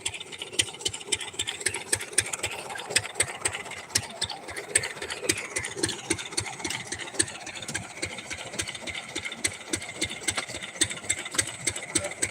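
A tractor engine idles steadily nearby, a rapid, even chugging rattle that holds the same rhythm from start to finish.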